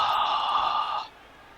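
A heavy, breathy exhale rasps close to the microphone for about a second, then cuts off into quiet.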